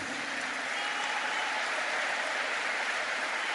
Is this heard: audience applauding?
yes